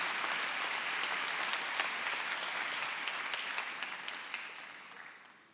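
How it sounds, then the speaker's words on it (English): An audience at a law school commencement breaks into sustained applause, a dense wash of clapping that holds steady and then gradually fades toward the end, with no voices over it. "Let's just give them a heartfelt round of applause once again"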